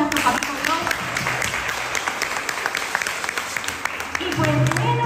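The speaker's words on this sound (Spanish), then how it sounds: "Regalémosle un fuerte aplauso a nuestro papito Dios." Crowd applause at a religious celebration after a prayer, dense steady clapping filling the space with voices and cheers mixed in, a speaker's voice returning over it near the end.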